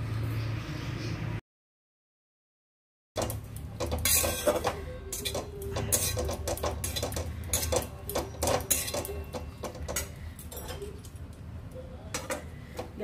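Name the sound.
mixing chicken bharta ingredients in a bowl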